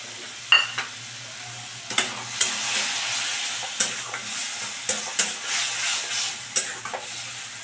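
Cabbage sauce stirred in a pan with a spoon, giving irregular scraping and tapping strokes over a soft background sizzle, close and moderately loud, with no voices.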